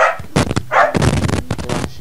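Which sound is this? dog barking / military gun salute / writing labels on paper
dog barking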